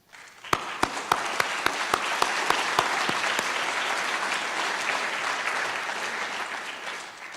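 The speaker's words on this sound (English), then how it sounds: "we can honor them with our applause" Audience applause at the 2011 AZCIV summit, with a few sharp individual claps at the start swelling into sustained, dense clapping from a large crowd that holds steady throughout.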